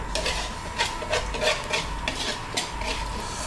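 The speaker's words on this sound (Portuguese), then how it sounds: "Agora é deixar ela engrossando, a gente vai mexendo" A spoon scrapes and clinks steadily in a pot as a thickening sauce for a chicken dish is stirred, with soft rhythmic scraping over a low background hum.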